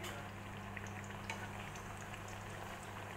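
Eggplant frying in a pan gives a steady, even sizzle and bubbling hiss that holds close and constant throughout, with no voices over it.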